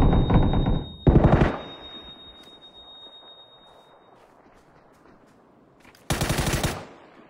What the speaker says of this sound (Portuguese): eu tô atirando no cara da casa do lado dela